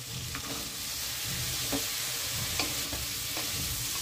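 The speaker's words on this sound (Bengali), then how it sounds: "ভালোভাবে সব সবজি একসাথে ভেজে নিচ্ছি।" Chopped vegetables, including brinjal, fry in a kadai with a soft, even sizzle broken by repeated light scrapes and taps of a spatula stirring them, fairly quiet and close.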